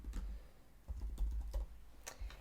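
Quick, uneven keystrokes tapped on a computer keyboard while entering text into email automation software, a short close burst of soft clicks over a low background hum.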